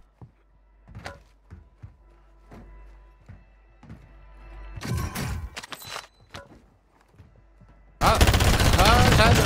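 Gunfire in the video game Call of Duty Warzone 2, with scattered sharp single shots, a dense burst in the middle and a loud, sustained stream of automatic fire at the end, mixed with mechanical clatter.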